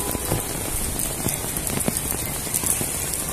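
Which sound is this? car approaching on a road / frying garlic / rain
rain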